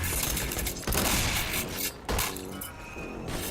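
Borderlands 2 gunfire, a steady loud crackle of shots and impacts in a noisy firefight with no clear gaps.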